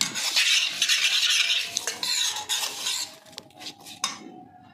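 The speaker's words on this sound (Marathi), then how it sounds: "सर्व मिश्रण एकजीव करायचं आहे" A spoon stirs a Marathi koshimbir salad of cucumber, tomato and onion in a bowl, giving busy scraping and clinking that fades toward the end.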